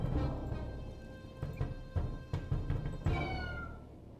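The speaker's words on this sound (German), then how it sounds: "Ich muss die Katze zum Weiterziehen bewegen, damit der Vogel heimkehren kann." A cat meowing while perched on a bird's nest in the game Grim Tales 2, its drawn-out meows rising over a low ambient game soundscape, with a longer cry near the end.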